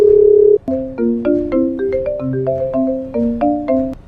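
A telephone plays a melodic electronic ringtone: a short steady tone, then a quick rising and falling sequence of bright beeping notes, loud and close, with no talk.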